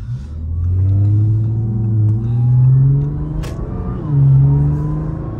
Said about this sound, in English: you can hear the supercharger more